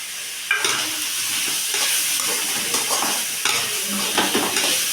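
Garlic and curry leaves frying in a pan for a cauliflower dish, a steady close sizzle with bursts of stirring scrapes and crackles, and no talking.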